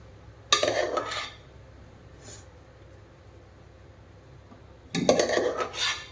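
Two short bursts of dishes and cutlery clatter as food is packed into a lunch box in a home kitchen, separated by a quiet stretch with a faint clink in between; close, no talking.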